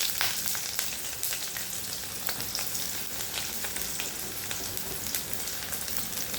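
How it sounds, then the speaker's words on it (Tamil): Vadiyam, garlic and a handful of onion sizzle steadily in hot oil for a kuzhambu, with a dense, even frying hiss and occasional stirring crackles. "பூண்டு நல்லா பொரியும் போதே கூடவே ஒரு கைப்பிடி வெங்காயத்தையும் போட்டுக்கலாம்."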